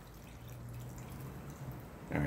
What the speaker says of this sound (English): Oh, I gotta add my water to this part.